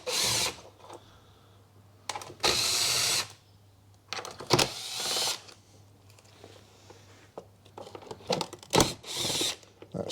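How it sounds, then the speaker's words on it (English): Short bursts from a small power gun with a 7mm socket undo the airbox bolts on a 2016 Ford Focus 1.5 TDCi, several whirring runs of about a second each separated by pauses, close and fairly loud, no talking. "So 7mm socket on a ratchet, or a little gun if you're lazy like me."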